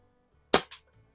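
A single sharp crack from a Crosman 73 Saddlepal BB gun, tested after repairs, with a quick second snap just after, close and outdoors with no talking.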